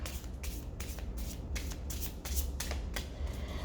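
A deck of playing cards riffle-shuffled repeatedly, a steady series of crisp, close fluttering bursts roughly every half second, with no voices.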